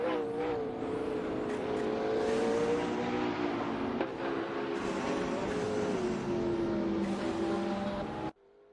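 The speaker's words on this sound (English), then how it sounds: "We are currently watching the racing cars in a simulator." Racing cars in a hypercar racing simulator at Spa roar steadily with sustained, shifting engine tones, a continuous near engine drone that cuts off abruptly at the end.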